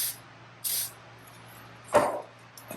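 Three short hissing bursts from an aerosol can of lubricant, close by, separated by brief pauses over a low steady hum.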